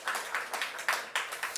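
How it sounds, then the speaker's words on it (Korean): A church congregation applauding at a weekday worship service, soft rhythmic clapping in a fairly regular beat, faint and somewhat distant, with no talk over it. "우리 다시 한번 큰 박수 드리는 게 좀 어떨까요?"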